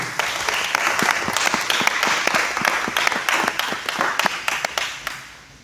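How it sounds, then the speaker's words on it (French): Applause at an artist's press conference for Pozo Charabia at the IFC; many distinct hand claps ring out fairly close and loud in a lively, uneven patter that thins toward the end. "Je pensais que les artistes devaient applaudir"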